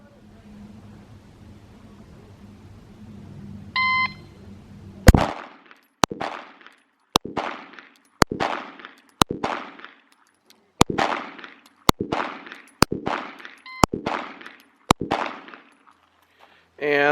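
A Glock 19 Gen 5 pistol fires from the 10-yard line: about eleven sharp, loud shots come roughly once a second, each with a short ringing tail, after a quiet lead-in.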